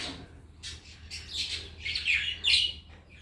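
Budgies and cockatiels in an aviary chirp and tweet in a steady stream of overlapping high calls, a few louder bursts standing out near the middle and end.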